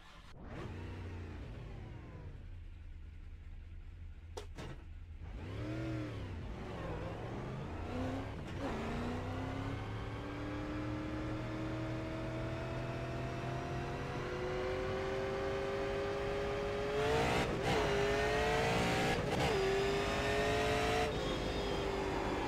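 A super late model race car in the iRacing sim at Kern County Raceway Park revs, shifts through gears and then pulls hard in a rising, sustained engine roar, loud and close with brief pitch dips between shifts.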